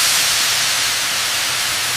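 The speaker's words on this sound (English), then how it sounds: "High-pressure steam is injected into the chamber, filling the space with intense heat and pressure." High-pressure steam rushes into a sterilization retort chamber in a sugar factory, a loud, steady, broadband hiss that holds unbroken throughout with no pauses or voices.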